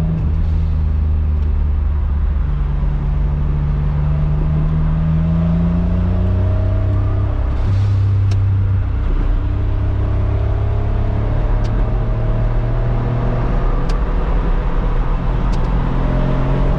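Suzuki Cara (Autozam AZ-1) kei sports car driving in third gear, its engine drone loud and steady with rising and falling harmonic tones as it pulls, plus road rumble throughout, no voices.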